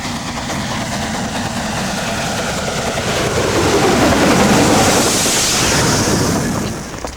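A restored British express steam locomotive named Duke runs steadily with a dense, roaring low rumble and hiss that swells louder midway, then eases at the end; no talking.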